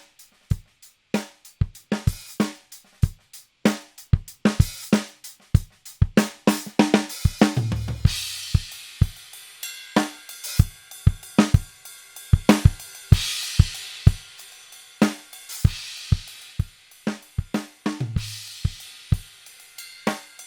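Live drum kit mix with parallel compression gradually brought in, steady kick and snare hits with cymbals in a regular groove, growing tighter and more prominent, with no voices.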